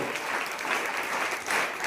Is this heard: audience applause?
yes